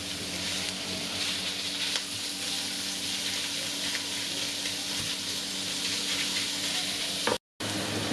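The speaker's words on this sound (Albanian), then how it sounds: "do shtoj mishin e grirë, ta ndihmoj me lugë që të hapet mirë, ose na bëhet me kokriza, dhe do ta skuqim tash me qepën" Minced meat fries with onion in a steady, loud sizzle while a spoon stirs it now and then, and the sound cuts out briefly near the end.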